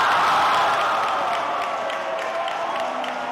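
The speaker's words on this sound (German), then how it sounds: "Jubel und pure Emotion bei Weinfrankens neuer Königin" A crowd cheers and applauds as Christina Schneider is crowned the new Franconian wine queen, a steady, dense roar of clapping and cheering that starts loud and eases only slightly throughout.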